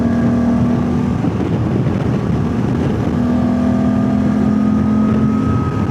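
Honda Gold Wing motorcycle in sixth gear, its engine holding a loud, steady drone with a smooth hum throughout, heard from on the bike at speed with wind noise.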